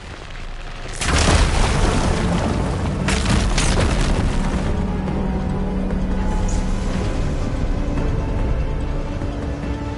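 Fire gleam rocks ignited in Horizon Forbidden West, a loud booming explosion that erupts after a second and rumbles on with crumbling debris for several seconds.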